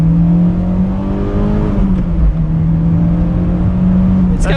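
Mitsubishi Lancer EVO X pulling hard in first gear, a loud steady engine drone whose pitch climbs and then settles across the run, close and continuous with no talk over it.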